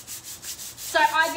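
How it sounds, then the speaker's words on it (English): Light sanding by hand along the painted edges of a piece finished with natural paint wash: soft rhythmic rubbing strokes, close and fairly quiet, with a brighter scratchier pass near the end. "light sand along those edges"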